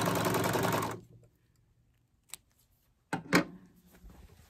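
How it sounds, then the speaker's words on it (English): A serger runs at speed along the edge of jersey knit fabric, a dense mechanical whir that stops after about a second, followed by a few faint clicks and handling noises. "Just simply guide it through your serger."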